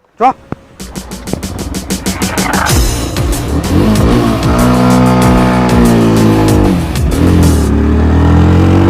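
A motorbike engine starts with a few sharp pops, then revs up and holds a loud, rising and falling drone, close by.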